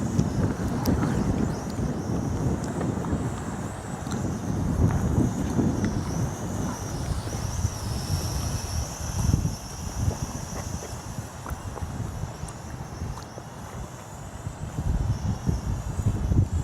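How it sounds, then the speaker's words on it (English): Steady wind buffets the microphone outdoors in cold weather, a loud continuous rumble with gusting low-end surges throughout, accompanied by a faint high drone from a small folding camera drone overhead. "Seems like the colder it gets here, the windier it gets."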